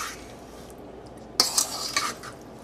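Smoked pulled pork gently mixed in a pan, a quiet moment then a short burst of metallic utensil scraping and clinking against the dish, close and brief.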